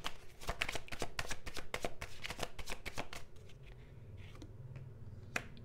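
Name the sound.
tarot card being drawn from the deck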